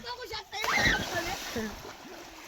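A swimmer jumps into open water outdoors, giving one sharp splash followed by sloshing and gurgling, close and fairly loud, with people talking and shouting around it.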